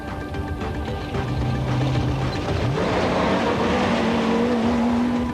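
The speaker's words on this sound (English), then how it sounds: "Philip Milan and Richard Leake in the turbo Toyota Hilux were the first of the Bucky Brigade. In typical fashion, the pair were charging hard" A turbocharged Toyota Hilux rally car charges hard through the Roof of Africa rally in 1990, its engine roaring loud and steady while the pitch sweeps upward as it accelerates.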